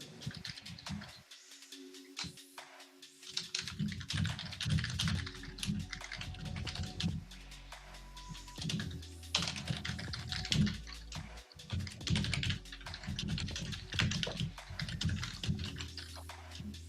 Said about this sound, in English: This is one of those mechanical keyboards, so you hear everything.